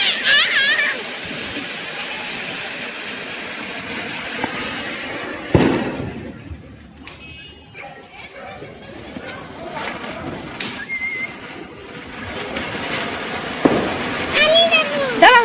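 Firecrackers go off at home for Diwali on Kali Puja night, with a few sharp bursts and crackling amid background noise while people talk nearby.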